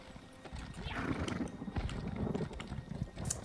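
Horse hooves clip-clop at a quick, steady gait in the video game ESO: Morrowind, close and moderately loud, with faint game ambience behind.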